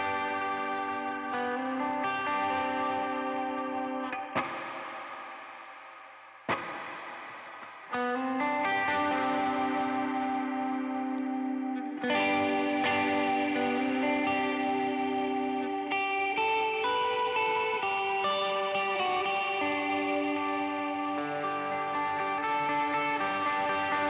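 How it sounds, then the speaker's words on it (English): Guitar played through an RV5 reverb pedal on its modulate setting, with chords and single notes ringing into a lush, shimmering, wavering reverb tail, loud and continuous with no talk. "So after the DL4 we have the RV5. That's the modulate setting just by itself."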